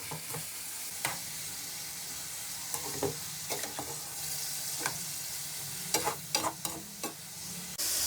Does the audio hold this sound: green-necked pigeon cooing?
no